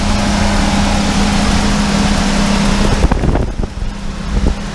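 The 455 engine of a 1974 GMC RV idles in its doghouse with a loud, steady, close rumble, then the tone shifts partway through with a few knocks and clunks.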